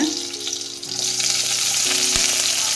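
Slit green chillies hit hot oil in a pan for a wheat rava kichadi, setting off a loud, steady frying sizzle that holds throughout, with a brief stir or clink partway.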